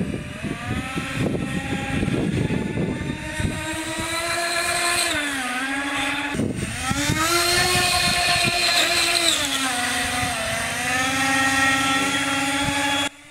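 A homemade hydroplane boat driven by twin 70mm electric ducted fans screams across a lake, its high, close whine sliding up and down in pitch as the throttle changes, with choppy splashing early on.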